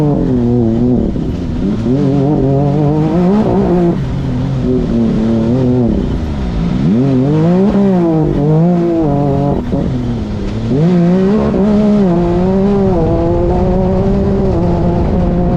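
A Can-Am Maverick R side-by-side engine drones loudly and continuously, its pitch rising and falling through repeated revs and gear changes, close and dominant with no talking.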